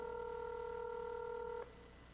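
A telephone call ringing out on a line: a steady, multi-pitched electronic tone holds for about a second and a half, then cuts off abruptly, leaving faint background hiss.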